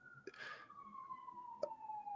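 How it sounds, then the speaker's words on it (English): Distant emergency siren in a Seattle neighborhood, a faint steady wailing tone drifting slowly downward, with a few soft knocks and rustles nearby and no speech over it. "I don't know if you can hear that, but I've got a siren."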